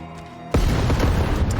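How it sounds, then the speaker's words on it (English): A building's furnace explodes in a video game, a sudden loud boom after a quiet half second, followed by a dense rumbling roar that lingers at steady volume. "so that's the furnace in that building in front of me exploding"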